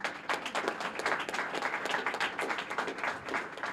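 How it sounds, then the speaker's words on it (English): Audience applause at a union training center ribbon-cutting ceremony, a steady wash of many hands clapping throughout, moderately loud and sustained with no speech over it. "Give yourselves a round of applause."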